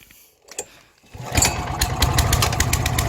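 A farm cultivator engine catches after a pull-start: a few sharp pulls and sputters, then the small engine fires and settles into a loud, steady, rattling run close by.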